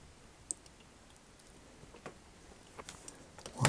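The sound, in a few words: knife cutting a plastic toy antenna piece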